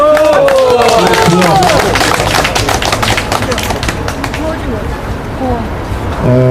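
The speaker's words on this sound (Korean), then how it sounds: "박수!" Crowd clapping and applauding at an outdoor election-fraud protest rally in a park, loud dense clapping that thins out toward the end, with voices mixed in.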